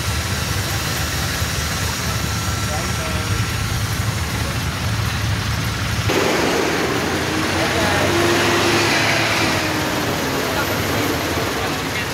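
Heavy downpour drumming on a stopped vehicle, a dense continuous hiss of rain over a low idling engine rumble, growing louder and brighter partway through; no words are clear.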